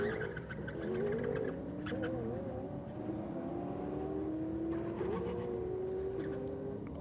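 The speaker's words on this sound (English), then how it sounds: "big free rev from one of those cars" A race car engine free-revs at a night-time 4WD drag race, its rising and falling whine sweeping upward over several seconds against steady, loud ambient noise from the event.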